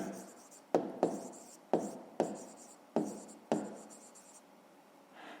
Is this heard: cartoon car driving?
no